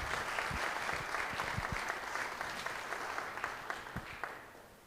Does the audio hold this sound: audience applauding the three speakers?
yes